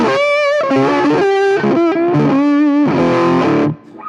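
An electric guitar plays a melodic line through two stacked overdrive pedals into a Tungsten Mosaic amp, loud and saturated with sustained notes, ending in a short fade.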